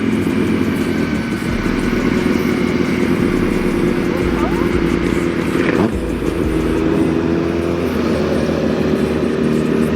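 A motorcycle engine on a breakfast ride runs loud and steady, with a continuous droning hum and a slight change in pitch near the middle. There are no clear separate revs.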